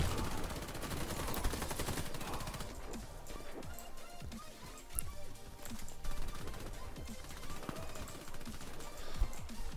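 P226 pistol gunfire in the shooter Warface during a team deathmatch, heard as rapid, dense shots mixed with other weapons and game noise, fairly faint and continuous.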